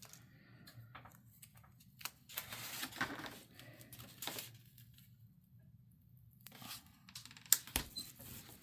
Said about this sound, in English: So I cut this medallion